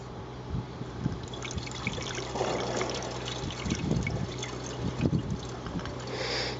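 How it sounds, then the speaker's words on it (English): Water trickles and pours steadily through a funnel, with soft gurgling splashes and small knocks, close up and without talking. "just drop a funnel in, 1 litre of water"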